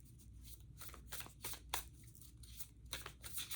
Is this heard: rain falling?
no